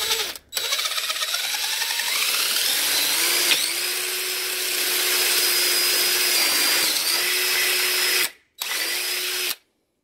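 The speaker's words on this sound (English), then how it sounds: "And then we're gonna start drilling through this." A power drill bores through a screen door frame, a steady loud whine with its pitch rising as it spins up, running nearly continuously with two brief stops, alone without talk.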